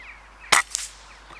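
A single sharp air rifle shot cracks out during a rabbit hunt in a July field, followed moments later by a fainter thump of the pellet striking the rabbit at about 35 yards, in otherwise quiet outdoor air.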